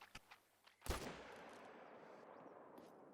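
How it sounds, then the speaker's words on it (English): A rifle fires at an alligator in the hunting game theHunter: Call of the Wild, a single sharp, close gunshot followed by a long rolling echo that fades slowly, preceded by a couple of faint clicks. "that is my first ever shot on a gator"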